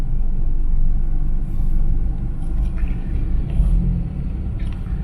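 Road traffic in the Philippines rumbles past as a steady, heavy low drone from engines nearby, with a few faint higher rattles and clunks over it.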